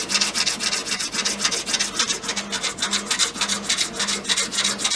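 A hand file scrapes down a wooden ram rod for a Kibler Colonial flintlock kit. Steady, rhythmic rasping strokes repeat close up at about three per second, loud and alone.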